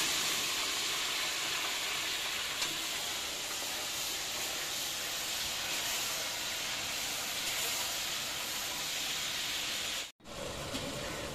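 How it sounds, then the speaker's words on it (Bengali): Yardlong beans frying in a pan produce a constant loud hissing sizzle, close and even throughout, with a short break near the end before the hiss returns. "এবার আমি বরবটিটা ভেজে নেব।"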